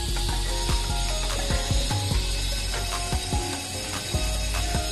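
A JM600 double-end connector insertion wire harness assembly machine with automatic connector and terminal feeders runs continuously. It makes a dense, loud clatter of ratcheting, clicking gears and mechanisms in quick, irregular rhythm.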